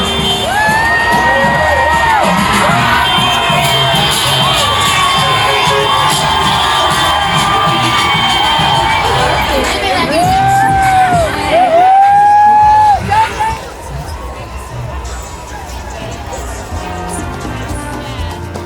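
A dense Mardi Gras street crowd in New Orleans cheers, whoops and yells without a break, loud and close. Whistles and shrill shouts rise over it before the roar drops away near the end.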